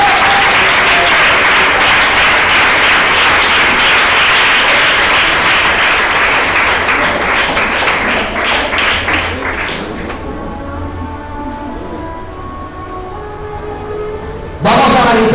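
A church congregation bursts into loud applause, dense clapping that holds steady, then thins out and fades away.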